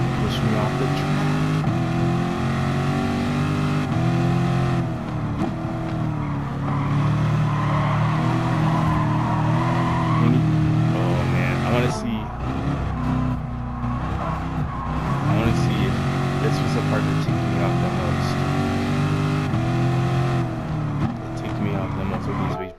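A race car engine in a racing video game roars and revs continuously, pitch rising and falling through gear changes and braking, with a brief drop in the middle and tire squeal at times.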